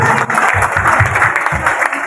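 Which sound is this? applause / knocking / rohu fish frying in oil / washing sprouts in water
applause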